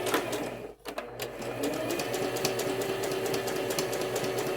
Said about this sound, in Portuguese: Agora eu vou me direcionar colocando a segunda costura na borda da sapatilha da minha máquina.